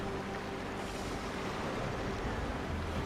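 Water feature in the Planet Coaster video game, splashing as a steady, dense wash of rushing water that stays even and fairly loud throughout.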